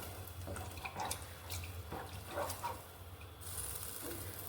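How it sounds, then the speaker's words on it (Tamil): About two cups of water poured into a pan for egg Maggi noodles, heard as light splashing and trickling with small clinks and drips, quiet and close with no speech. "தண்ணி ஊற்றிடலாம். 2 கப்பு ஊற்றிருக்கேன்."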